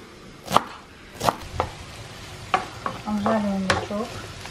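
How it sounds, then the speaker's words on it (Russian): Onion frying in a pan while lamb chikhirtma is cooked, with a soft steady sizzle under several sharp clinks and scrapes of stirring, close and moderately loud. "Обжариваем лучок."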